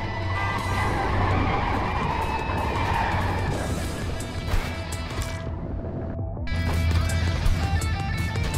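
Trucks roar and skid in the Clustertruck video game, a steady, loud rumble of engines and squealing tires that continues throughout, with a brief dip near the end before the noise swells back.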